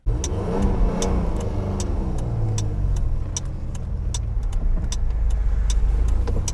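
A Citroën SM with a Maserati engine drives in Switzerland, its engine note loud and close, pulling and revving steadily throughout with repeated sharp ticks over the top.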